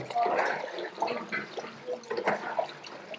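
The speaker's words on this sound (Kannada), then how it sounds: "ಅದರಲ್ಲಿ ಸ್ವಲ್ಪ ನೀರು ಹಾಕ್ಕೊಂಡು ಫ್ರೈ ಮಾಡ್ತಾ ಇದ್ದಾರೆ." Water splashes into a huge biryani cooking vessel holding frying masala for a large mutton dum biryani batch, a close, uneven gush and slosh lasting a few seconds.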